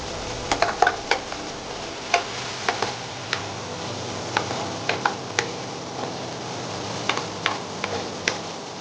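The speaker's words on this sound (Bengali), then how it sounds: "চিকেন স্যুপের জন্য যেই উপাদানগুলো আছে সেইগুলো এক এক করে এবার কড়াইতে দিয়ে দেবো" Chicken soup ingredients go one by one into a hot wok, giving a steady sizzle broken by scattered sharp ticks and clinks of food and utensil close by, with no talking.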